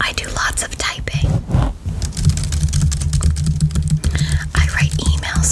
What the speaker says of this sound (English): I do lots of typing.